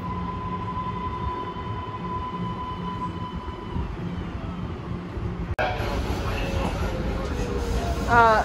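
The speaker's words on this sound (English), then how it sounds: "it thinks the next stop is Science Park as we're pulling into Lechmere" Rumbling MBTA Green Line train interior with steady rolling noise, a sudden shift midway to louder rattling and brake squeal as the car slows into Lechmere station, with faint voices beneath.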